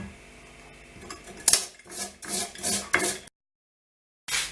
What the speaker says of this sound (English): Let's shred some tatties.